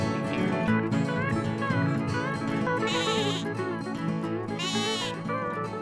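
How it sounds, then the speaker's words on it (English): Grass-fed lambs bleat repeatedly, several wavering, nasal calls overlapping at close range, with a couple of higher, strained cries standing out amid the continuous chorus. "I sure did love those lambs."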